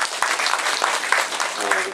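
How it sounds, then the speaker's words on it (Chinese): An audience of volunteers at a public meeting claps for themselves in a brief, dense burst of applause, with voices mixed in. "我觉得我们在座各位应该给自己鼓鼓掌"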